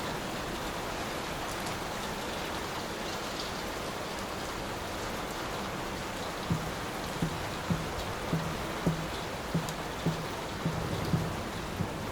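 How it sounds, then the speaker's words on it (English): Steady storm rain pours in the game Layers of Fear (2023), a soft continuous hiss of downpour with faint dripping and a series of light rhythmic taps appearing midway. "Will this storm ever run out of rain?"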